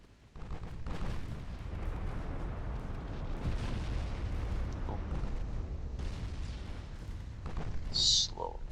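Naval guns firing armor-piercing rounds in Ultimate Admiral: Dreadnoughts, a steady low rumble of continuous gunfire and distant booms, with a sharper burst near the end.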